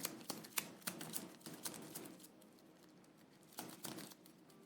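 Playing cards for the board game Die in a Dungeon shuffled by hand, with a few crisp riffling bursts at the start and again near the end, close and quiet.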